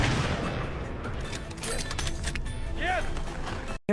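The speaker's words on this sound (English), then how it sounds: "Despite bullets flying in front of him, he remains unfazed and takes down the enemy with a single, precise shot." Gunfire and a single precise sniper rifle shot in a war film scene set in frozen conditions, with continuous dense noise of bullets and battle sounds throughout and a brief sharp cut near the end.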